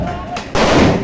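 Police gunfire at a protest in Palwal, India, where demonstrators stormed the deputy commissioner's house: a loud sharp burst erupts midway and gives way to sustained noisy crowd din, with a fainter earlier crack.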